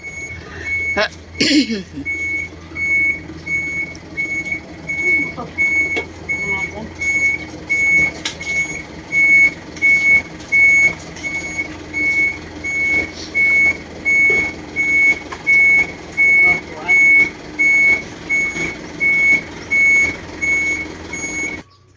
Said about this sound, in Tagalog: Ayan po, yung truck, umaatras po.